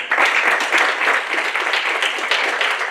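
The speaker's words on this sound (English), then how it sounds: "I'd like to give them a round of applause too." A room full of people clapping for students at the close of a student research lightning talks session, a steady, close burst of applause lasting a few seconds.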